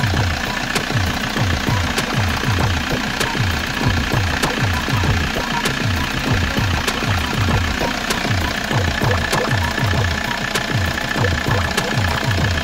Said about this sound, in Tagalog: pakinggan natin ang tunog ng makina